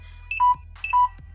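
A mobile phone gives two short electronic chirps, each a quick two-note beep stepping downward, heard close and fairly quiet, with no talking.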